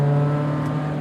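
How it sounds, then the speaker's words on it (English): A 1988 BMW M3 (E30) engine hums with a steady, buzzy mid-pitched drone, close and brief, with no talking. "this engine is buzzy in the best way possible"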